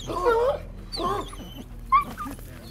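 A dog whines and whimpers in several high, wavering cries, close by, with short pauses between them.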